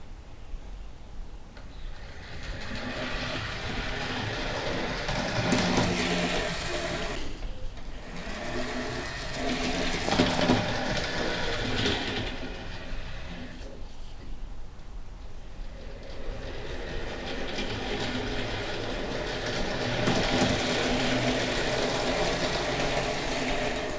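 A model Class 31 locomotive moves wagons along the track with a steady, close whirring motor hum that drops out briefly a couple of times before resuming.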